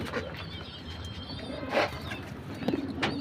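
Pigeons kept by a Punjabi pigeon fancier coo in low, soft bursts over a busy, noisy background, with a couple of louder calls near the middle and end.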